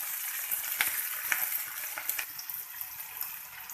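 Fenugreek leaves frying in a pan for carrot and fenugreek sabzi, a steady close sizzle with scattered crackles and pops as their water cooks off, heard alone.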